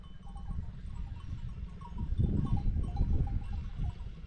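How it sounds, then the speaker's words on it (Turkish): A sheep flock bleats faintly amid a steady rustle of livestock outdoors, with small sheep bells jingling irregularly in the background. "Çan sesleri geliyor."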